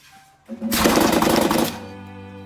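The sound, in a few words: V-nail joining machine shooting nails into moldings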